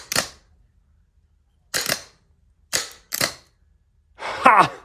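Starter solenoid on a non-starting Honda, wired direct with a trigger, gives sharp isolated clicks: one near the start, then another, then two close together, each separated by silence, followed by a brief louder burst at the end.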